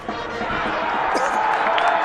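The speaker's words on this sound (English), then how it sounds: "the cheer you can hear is for a half century" Crowd cheering at a Sri Lanka versus Zimbabwe one-day international cricket match as a batter reaches a half century, a steady broad roar of a distant stadium crowd swelling slightly, with a commentator talking over it.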